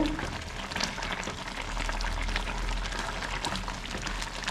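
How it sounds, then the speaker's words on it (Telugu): A pot of semiya kesari (vermicelli) boils on the stove, a close, steady bubbling and gurgling with small pops over a low hum, continuous and without talk. "ఇంకైతే ఉడకాలమ్మా ఇది ఎంతవరకు ఉడికింది"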